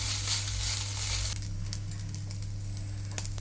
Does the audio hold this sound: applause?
no